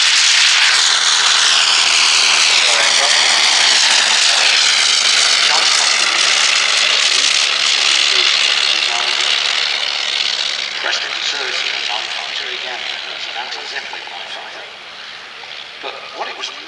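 A vintage Avro 504N biplane engine drones loud and continuous as the aircraft flies at an Old Warden airshow, slowly fading toward the end, with a commentator speaking over it.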